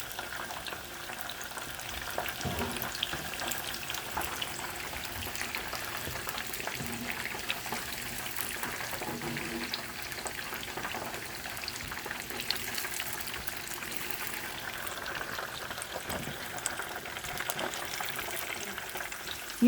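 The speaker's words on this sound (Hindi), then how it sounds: "ये प्याज डाला है, ब्राउन हो गया है प्याज।" Onions frying in a pan until browned, a dense continuous crackling sizzle that stays even and close for the whole stretch, with a few faint stirring scrapes.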